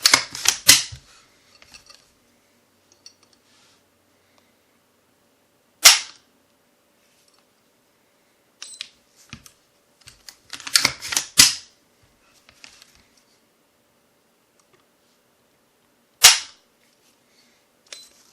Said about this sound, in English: we'll go ahead and take some trigger pulls on it. We'll do an average of 5. Got my Lyman gauge out.